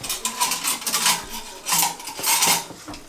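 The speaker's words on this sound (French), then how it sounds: "Et je vais mélanger." A utensil stirs a cereal and mushroom risotto in a pan, producing continuous scraping and clinking strokes that swell and fade in waves, close and fairly loud, with no talking.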